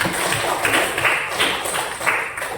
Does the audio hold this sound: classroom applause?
yes